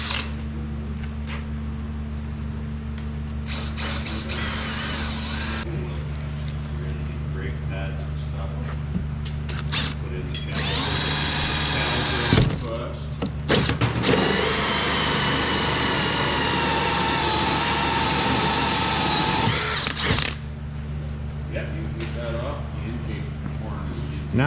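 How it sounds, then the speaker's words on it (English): A power drill bores a hole into a truck's fuel tank in a workshop, a sustained whining drone that rises loudly for several seconds under a steady background hum. "So let's drill a hole."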